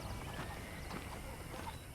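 Horse hooves clip-clop in a steady rhythm in the Western video game Red Dead Redemption, close and fairly loud over continuous ambient game sound.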